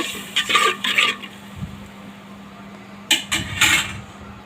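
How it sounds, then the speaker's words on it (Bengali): Fish spice masala with salt being stirred and fried in a pan, bursts of scraping spatula strokes over a steady low sizzle and kitchen hum, in two groups with a quiet gap between. "এখন মশলাটাকে ভালো করে নাড়াচাড়া করে আমি কষিয়ে নেব"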